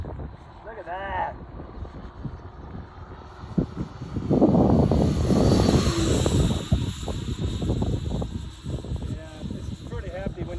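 FliteTest F-14 RC model jet, rebuilt after a crash, flying overhead with a rising and falling whine and roar, accompanied by wind buffeting on the microphone and people talking nearby.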